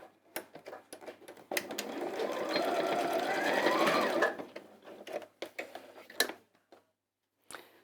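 Domestic sewing machine stitching across the end of quilting fabric, a steady close whirring run of about three seconds, framed by scattered clicks and handling noises before and after.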